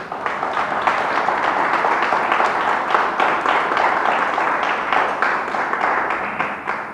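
Congregation clapping together in a church, a sustained round of dense, rapid applause at moderate level that stays even before tapering slightly near the end.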